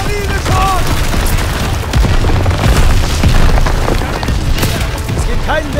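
Heavy artillery explosions boom through a Call of Duty WWII battlefield scene, a dense, continuous roar of blasts and gunfire with shouted voices mixed in throughout.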